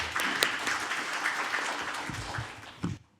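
An audience at a policy forum applauds for about three seconds, a dense wash of many hands clapping at moderate distance, thinning and fading out abruptly at the end.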